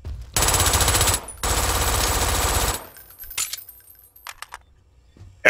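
A machine pistol fired in the video game Brink, with two rapid bursts, loud and close, each lasting about a second, then a few faint clicks and mechanical handling noises.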